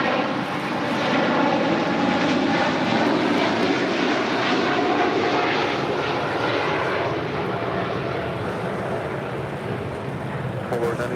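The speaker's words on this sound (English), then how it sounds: "This is DHL operated by Polar Air Cargo 9601 taking off to Seoul" DHL cargo jet operated by Polar Air Cargo taking off at LAX, a loud sustained engine roar that holds strong and slowly eases over several seconds, with a voice speaking over it.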